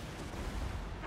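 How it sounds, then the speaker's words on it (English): Warp lightning cannons firing in the video game Total War: Warhammer 2 during a Skaven battle against Bretonnia: a dense, continuous rumbling roar of cannon blasts and explosions filling the whole short moment. "Warp lightning cannons!"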